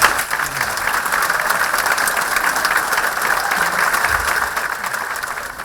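Audience applause for a musician at a show: a dense, sustained wash of many hands clapping at an even level throughout, with no speech over it.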